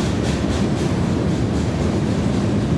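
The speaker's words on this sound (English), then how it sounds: "Look at that. The train." A train passes close by at night, a loud, steady rolling rumble with a faint rhythmic clatter that fills the whole stretch with no voices.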